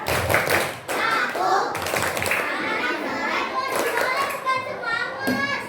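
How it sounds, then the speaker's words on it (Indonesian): Children in a community classroom session perform a rhythmic tepuk semangat clapping chant, bursts of hand claps mixed with chanting young voices, lively and close, with an adult voice in between. "Kita mulai ya. Tepuk semangat."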